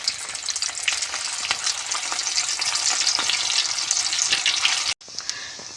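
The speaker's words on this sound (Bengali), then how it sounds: "এবার আমি এগুলো তেলে ভেজে নেব। তেলটা আমার গরম হয়ে গেছে" Drumstick flower fritters dropped into hot oil, a dense continuous sizzle with crackling bursts for about five seconds, then a sudden drop to a quieter, fainter bubbling.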